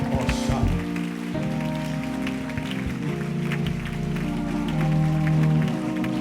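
Church congregation claps hands steadily while praying, a dense patter of many hands under sustained organ or keyboard chords during a worship service.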